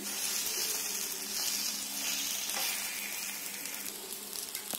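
Banana flower and egg paniyaram frying in a pan while being turned over, a soft, even sizzle with faint scraping, moderately quiet and without talk.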